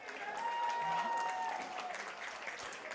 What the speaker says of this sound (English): I would ask for the fans to do a nice round of applause for Great Britain and for Spain